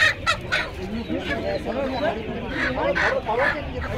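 Sonali chickens cluck and squawk at a busy Uluberia poultry market, repeated nearby calls over a crowd murmur, with people talking through them.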